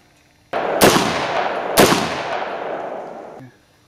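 Two sharp, loud gunshots about a second apart during a live fire test of a flashlight mounted on a weapon, each crack followed by a long decaying echo outdoors.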